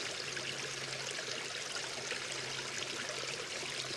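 Water spilling down a small cascade into a garden pond, a steady, soft rushing and trickling wash that stays even throughout, fairly faint and heard alone with no voices.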